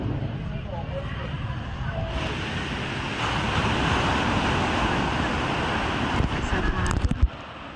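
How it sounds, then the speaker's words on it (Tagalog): Sea surf rolling onto a beach near Puerto Princesa: a broad, constant wash of waves mixed with wind rumble on the microphone, with a voice speaking briefly over it. "ito yung tabing dagat"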